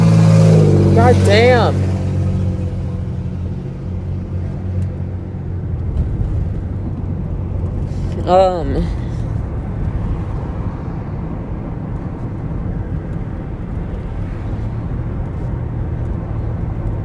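A loud car engine roars past on the road, with a rising-and-falling drone sweeping by early and another surging pass midway, under a continuous rumble, while someone talks over it.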